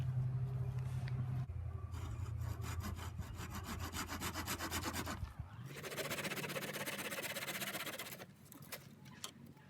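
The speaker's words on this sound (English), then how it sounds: "So come check out how I cut the cane." A saw cuts through a bamboo cane for a garden stake in quick, rasping back-and-forth strokes, loud and close, with a brief change in tone midway as the cut progresses.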